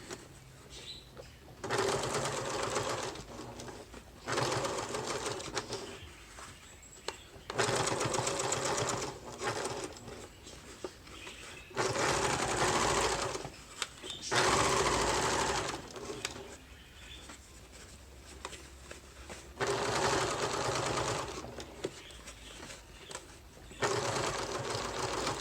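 Sewing machine restitching along a seam of a clutch bag, running in repeated bursts of fast, steady stitching with short pauses between, while a dove coos faintly in the background.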